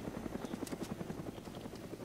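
A helicopter in the game DayZ gives a steady rhythmic rotor thump, moderately near, with little else over it.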